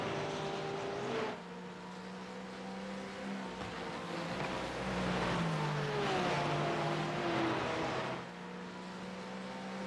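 Several Porsche GT3 race cars running at Lime Rock, engines droning loudly and continuously with shifting pitch as they pass close by, swelling and fading together without talk.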